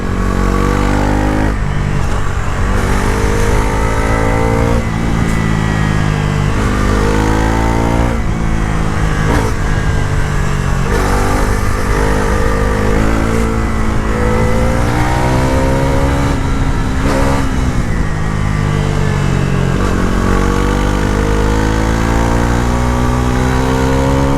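A Bajaj Pulsar NS 350z motorcycle engine revs loud and close, climbing repeatedly through the gears past 6000 RPM with a steady, continuous roar and brief dips at shifts, no talk.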